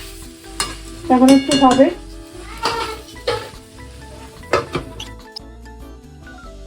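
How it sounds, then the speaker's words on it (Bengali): Boiled Malabar spinach goes into a hot pan and is stirred, making a soft sizzle with several clinks and scrapes of a utensil against metal, and someone speaks briefly near the start. "আমি এই যে সেদ্ধ করে রাখা পুঁই শাকটা আমি এখন দিয়ে দিচ্ছি"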